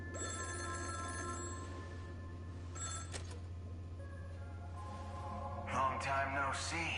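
A telephone rings in the video game Honkai Star Rail, set on Penacony, a steady electronic ringing tone over a low game ambience hum, with a brighter burst of ringing toward the end.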